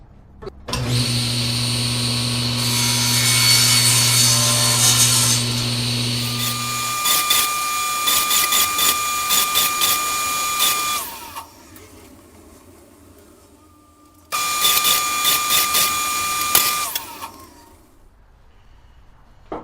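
A power saw cutting cedar wood into small triangles for a turned bowl, a loud whining buzz that runs for several seconds, drops away briefly, then starts up again for a few more seconds before stopping.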